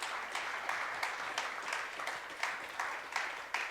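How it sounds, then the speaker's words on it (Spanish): Church congregation clapping, heard faint and somewhat distant, with a rhythmic pulse of accents roughly every half second as if clapping along in time. "dele un aplauso por favor."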